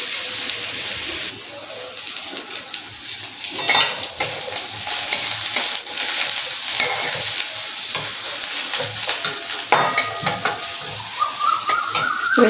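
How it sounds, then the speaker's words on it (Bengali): Chopped onion fries in a pan with a continuous close sizzle, as a spoon or spatula scrapes and knocks against the metal in irregular bursts. No one speaks. "পেঁয়াজটা একটু ভাজা ভাজা হবে।"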